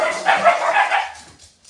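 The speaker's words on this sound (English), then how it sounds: "Sorry, my dogs are just being protective there." Several close, loud barks from dogs come in a quick run, then trail off into a softer whimper and a last faint yip.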